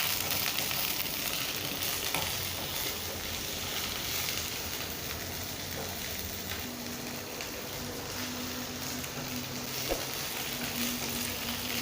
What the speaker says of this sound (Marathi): आता याच्यात मी ब्रोकोली घालते। याला आपण तेलात कमीत कमी 4-5 मिनिटं